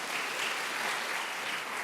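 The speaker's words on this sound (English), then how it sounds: "How about a round of applause and thank you for those folks." Luncheon audience applauding at a chamber of commerce event with the governor, a steady, dense wash of many hands clapping together without pause, moderately loud and filling the room.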